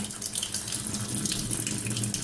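Water pours steadily from a Kangen water ionizer at its second drinking level, a soft, continuous splashing stream close by with no talk over it.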